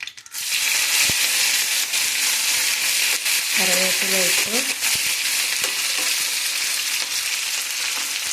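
Curry leaves drop into hot oil with dried red chillies already frying, setting off a loud, steady sizzle with sharp crackles and pops partway through, close and continuous with no talk.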